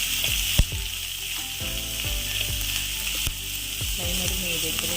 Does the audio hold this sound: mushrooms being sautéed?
yes